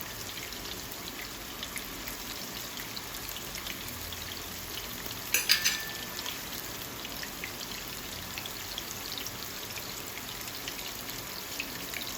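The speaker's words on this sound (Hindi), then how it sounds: "अब मैं इसको शैलो फ्राई करूँगी" Gola kebabs of raw minced meat shallow frying in a pan over low heat, giving a steady, quiet bubbling crackle throughout with one brief louder spatter near the middle.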